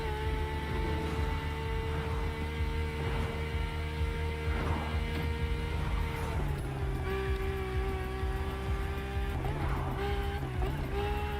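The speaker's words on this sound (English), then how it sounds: "A powerboat designed by the Motorfest" A powerboat in The Crew Motorfest drones steadily throughout, a loud, continuous engine hum with a shift in pitch partway through, over a constant rush of water, with no talking.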